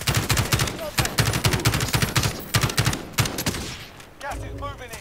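Dense, loud video-game gunfire with rapid automatic bursts and sharper single shots overlapping for several seconds, then easing off, with a voice speaking over part of it.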